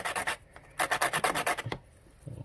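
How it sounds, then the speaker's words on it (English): Hand sanding with a sanding block along the edges of small hardwood floor pieces for a dollhouse, heard as close, rhythmic rasping strokes in two bursts separated by a short pause. "You go on your little sanding block, do your edges."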